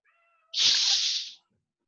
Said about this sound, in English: I can hear him meowing.